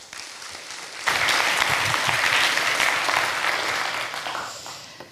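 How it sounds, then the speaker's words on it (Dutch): An audience at an evening lecture program breaks into loud, sustained applause, many hands clapping together at close range after a quiet start, then slowly tapering off. "Graag uw aandacht en een hartelijk applaus voor Tinka Prast."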